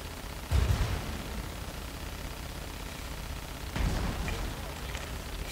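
Naval guns in a warship game fire twice at a ship's superstructure, each a deep booming blast that rolls off, separated by a few seconds of steady sea and engine rumble.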